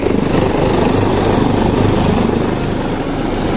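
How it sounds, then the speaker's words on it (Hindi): Rescue helicopters hover over a chair lift accident site in Battagram, producing a loud, continuous rotor chop with a dense beating rhythm and heavy engine roar. "इस वक्त यहाँ पर 3 हेलीकॉप्टर जो है वो काम में मसरूफ़ है"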